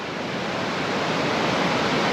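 White water rapids on the Tully River roar steadily nearby, a dense, continuous rushing wash with no voices over it.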